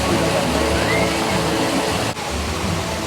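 Water rushes steadily in a broad, constant hiss, like a nearby cascade, with a faint whistle passing briefly over it.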